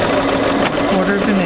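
A sewing machine stitches a couple of stitches toward a folded fabric edge, a brief close whirring run under a speaking voice.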